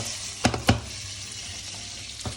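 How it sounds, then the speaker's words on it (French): Spaghettoni being tossed with guanciale in a hot frying pan: a steady soft sizzle, broken by two quick stirring scrapes early on and another near the end. "je remue aussitôt les pâtes"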